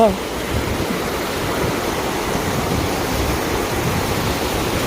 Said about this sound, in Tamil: எவ்வளோ தண்ணி போகுது பார்த்தியா?